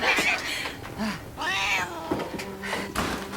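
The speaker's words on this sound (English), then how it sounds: "I think that cat's possessed." A video game cat meows repeatedly and yowls in drawn-out, wavering cries, loud and close, with a few soft knocks between calls.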